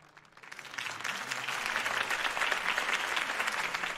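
A crowd cheers and claps for Harvey Dent's campaign speech in the video game Batman: The Telltale Series. The applause swells in within half a second, then holds as a dense, steady roar of many hands.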